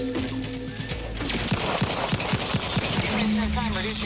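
Pistol fire in The Outer Worlds 2, a quick series of sharp shots fired in rapid succession, fairly close, over a steady background hum with a faint voice.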